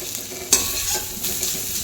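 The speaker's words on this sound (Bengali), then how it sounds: "ভালো করে এটাকে ভাজা ভাজা করে নিলাম।" Ash gourd curry (chal kumro ghonto) fries in a pan with grated ginger just added, giving a loud continuous sizzle up close. A sharp scrape of stirring lands about midway.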